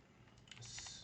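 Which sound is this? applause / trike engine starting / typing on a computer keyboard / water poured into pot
typing on a computer keyboard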